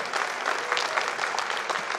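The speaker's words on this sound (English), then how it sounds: "round of applause for endorsement two on the arrangement" Steady applause from a live jazz concert audience at a show, dense clapping that holds evenly throughout without a break.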